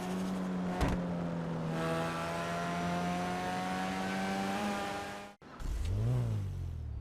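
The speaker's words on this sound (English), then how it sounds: "The Savestra with that legendary rotary startup that's so unique to every other startup" A Savestra with a rotary engine starting up in GTA Online: a steady, buzzy idle with rich harmonics, a sudden cutoff, then a quick rising rev blip, loud and close with no talk.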